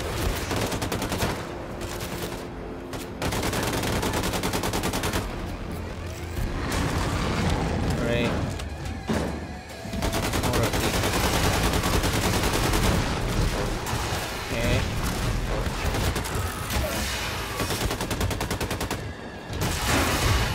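Grenade blasts and rapid gunfire in the shooter Wolfenstein II: The New Colossus, loud, dense and continuous, with heavy booms and bursts of automatic fire layered together while a player talks over the action.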